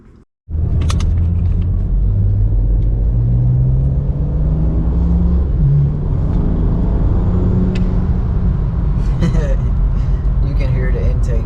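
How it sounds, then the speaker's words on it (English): Idling BMW 335i E90 with aftermarket intakes: a loud, steady, deep engine rumble with a slight rise and fall in pitch. It starts after a brief quiet moment and continues to the end. "You can hear the intakes for sure."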